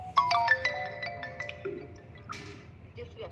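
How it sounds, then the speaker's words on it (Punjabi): A short electronic phone ringtone melody of a few quick tones that ring on and fade, with faint background noise and no talking, from a call reaching a busy line. "ਜਿਹਨੂੰ ਕਾਲ ਕੀਤਾ ਹੈ ਉਹ ਕਿਸੇ ਦੂਜੀ ਕਾਲ ਤੇ ਵਿਅਸਤ ਹੈ"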